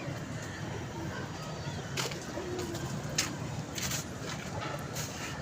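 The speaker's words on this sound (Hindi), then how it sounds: "ये बड़ा मज़ेदार कबूतर है यार ये" Pigeons at a pigeon club coo softly, a few low, quiet calls set against a constant background hiss and faint water-like noise.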